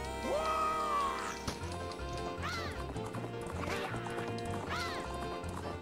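Horses galloping in a race in The Legend of Zelda: Majora's Mask, with rhythmic clip-clop hoofbeats and repeated whinnies rising over game music.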